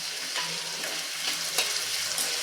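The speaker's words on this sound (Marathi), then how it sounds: "सर्व एक साधारण मिनिटभर आपल्याला छानपैकी परतून घ्यायचं आहे" Green chili and curry leaves sauté in a pan for bread upma, giving a steady, close broadband sizzle with a few scraping stir strokes throughout and no voices.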